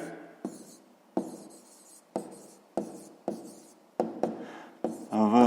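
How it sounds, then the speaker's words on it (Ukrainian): Pen or pencil writing out a math answer on paper, a series of short scratchy strokes in bursts with brief pauses, close and fairly quiet, with a louder rustle at the end. "записуємо тоді відповідь"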